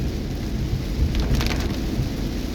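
Steady heavy rain from a summer storm pours down with a low rumble of thunder rolling through the middle, continuous and fairly loud.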